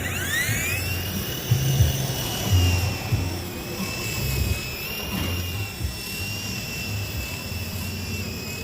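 High-pitched whining buzz of the rotors of a small Sky Rover Vigilante toy drone, holding a steady pitch with slight wavering, close by, with a few soft thumps beneath.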